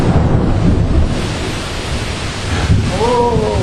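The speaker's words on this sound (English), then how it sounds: "It's a big storm." A big thunderstorm over a lake in Adirondack Park makes a loud, continuous roar of heavy rain and wind, with deeper rumbling swells and a brief voice near the end.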